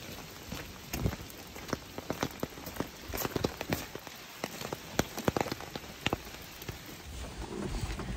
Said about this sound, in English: It's very cold and rainy.